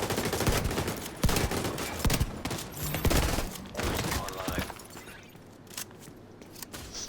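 Shotgun fire in the video game The Division 2 during PvP combat: a dense, loud stretch of rapid overlapping gunshots and impacts that thins out toward the end, with no talking.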